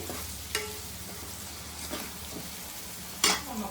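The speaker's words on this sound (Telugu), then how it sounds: "ఈ ఉల్లిపాయలు కూడా చక్కగా వేగాలి" Onions sizzle and fry in a pan on a gas stove while egg gongura cooks, a steady sizzle broken by a few brief clinks and stirring scrapes of a utensil.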